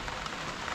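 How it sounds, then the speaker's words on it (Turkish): Sudden heavy rain pours down in a village, a dense, steady hiss of drops pounding the ground and surfaces, close and unbroken. "Bastırdı birden yağmur."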